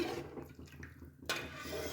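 Coloured water swirls and swishes faintly as it is stirred in a kadai wok while preparing sweet zarda rice, with a slightly louder splash partway through.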